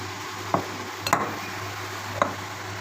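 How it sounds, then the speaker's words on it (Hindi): Minced meat for gola kabab fries in a pan under a faint steady sizzle, broken by a few sharp scrapes and clinks of a spoon stirring against the metal. "अच्छी तरह से हम भून लेंगे।"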